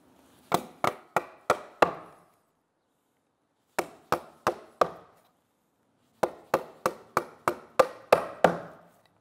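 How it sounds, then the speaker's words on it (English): A 1.5 inch chisel is struck in short bursts of sharp, close knocks while chopping out a wood mortise: four blows, a pause, four more, another pause, then a quicker run of about eight. "So now we're going to chisel out the waist and square up the mortise."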